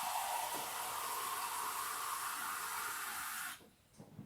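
Panasonic NN-E28JMMBPQ microwave oven running with a cup of water inside, giving a steady broadband hiss and hum before it stops and the room goes quiet.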